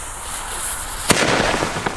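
Klasek "No Sound" shell-tube fireworks go off, with a sharp loud launch pop near the middle followed by a hissy crackling burst and scattered smaller pops as the effect spreads, set against steady outdoor background noise.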